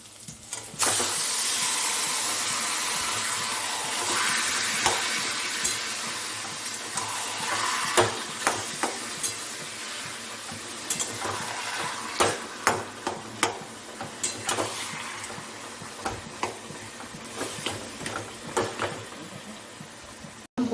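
Taro leaves with green chillies fry in a hot pan, a loud steady sizzle and hiss with frequent clinks and scrapes of a stirring spoon throughout.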